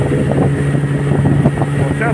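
A motorboat powered by a Gladiator 9.9/15 outboard motor runs across a bay, its engine droning steadily and loudly up close with wind buffeting, while someone talks over it.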